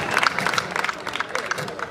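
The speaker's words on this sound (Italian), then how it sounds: "Anche qui lo dobbiamo sollecitare, l'applauso più forte" Audience applause at an award ceremony after a half-marathon race, a dense patter of claps filling the room at moderate loudness, with a few louder bursts and some voices mixed in.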